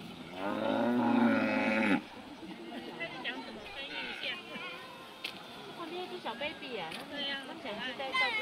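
A cattle herd with calves crosses a river beneath a railway bridge in Taichung, opening with a loud drawn-out moo followed by fainter lowing and splashing while several people talk over it.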